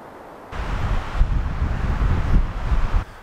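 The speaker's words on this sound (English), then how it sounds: "It is really, really windy" Strong wind on a mountain backpacking trip, a loud gusting roar buffeting the microphone for about two and a half seconds.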